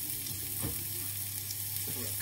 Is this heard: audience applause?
no